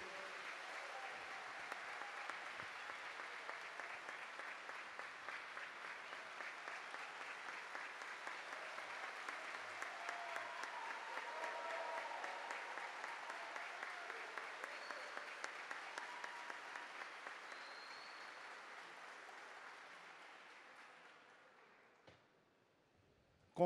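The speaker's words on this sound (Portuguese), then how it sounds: "uma salva de palmas para esse grande homem, para esse grande líder" A long round of applause at a solemn ceremony honouring a leader with the Tiradentes Medal, steady crowd clapping heard from a distance that slowly fades toward the end.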